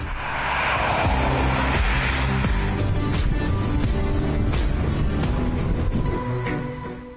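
A new BMW Touring car drives by with a loud, steady engine note and a broad rushing whoosh that rises and then eases off, heard alone without talk.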